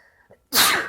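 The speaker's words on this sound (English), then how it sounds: "Whenever there's a dark presence around me, I sneeze." A single loud, close human sneeze bursts out suddenly after a moment of near silence, with a faint breath just before it.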